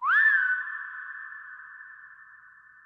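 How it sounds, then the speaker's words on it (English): A single rising whistle tone played back with York Minster cathedral convolution reverb, a bright swoop at the start that settles into a steady pitch and rings out long, slowly fading in the large reverberant space. "it's got that convolution reverb effect applied"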